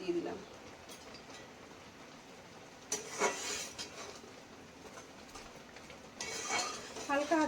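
A metal spoon stirs dal with jute leaves and turmeric in a pot, scraping and clinking in a few short bursts over a quiet, steady kitchen background.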